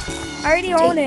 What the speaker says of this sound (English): Bro, that's my cat.